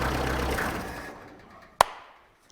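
An old Jeep flatfender's rough engine rumbles loudly, running without a cooling system, then fades out and goes quiet, followed by a single sharp click.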